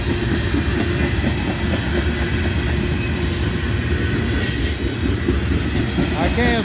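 A freight train rolls past close by, its loud continuous rumble of wheels and cars marked by clicking rail joints and occasional high metallic squeals.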